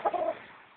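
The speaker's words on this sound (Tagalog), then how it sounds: "Sir, ito po yung mga inahin natin, sir." Brooding hens at Tres Hermanos Farm let out a short burst of clucks, a couple of quick close notes that trail off into quiet within a second.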